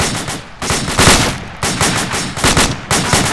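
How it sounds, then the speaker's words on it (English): Repeated bursts of gunfire in the military video game Arma 2 during a convoy battle, loud sustained volleys and automatic fire rattling through the whole stretch with no talk over it. "Hey, they're shooting at us."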